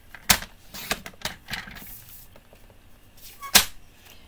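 Cardstock trimmed on a paper trimmer during a card-making session: a few quiet sliding and clicking strokes with two sharp snaps, close and faint, with no talking.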